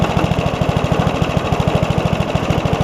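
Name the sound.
old top-pull Briggs & Stratton engine idling on a Craftsman push mower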